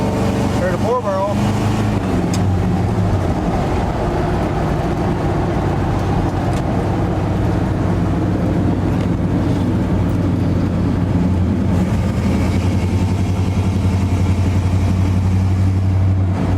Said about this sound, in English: See how good she sounds now.